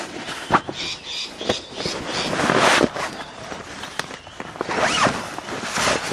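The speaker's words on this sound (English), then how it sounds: "And zip right open." A camper trailer tent's zipper is drawn open, giving a scratchy, rustling run of zipping close to the mic, mixed with fabric handling and light outdoor noise.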